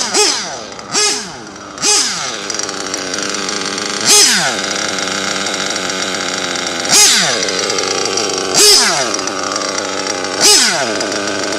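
A cold nitro RC engine revs in sharp, repeated bursts over a steady raspy idle, with about eight loud blips spaced unevenly, close and with no talking.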